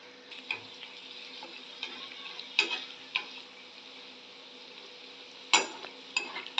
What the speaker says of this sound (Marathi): कढई अशी जरा बेतानं हलवून घ्यायची, म्हणजे आपले कोफ्ते सगळीकडनं सारखे तळले जातात.